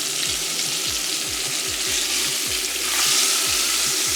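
Cubed steak sizzles loudly and continuously in a pan, swelling slightly as the meat is flipped, over a regular rhythm of low thumps in the background.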